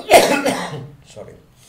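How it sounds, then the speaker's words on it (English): A man recovering from a lingering cough lets out a sharp, harsh cough at the start, followed by a rougher tail and a quieter throat-clearing rasp, close and alone. "still suffering with that coughing"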